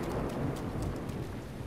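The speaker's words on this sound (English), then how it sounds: "Well, that lightning strike just killed that guy." A lightning strike in The Legend of Zelda: Breath of the Wild, heard as a dense, loud rumbling crackle of thunder over steady rain noise, filling the whole short moment without any voice.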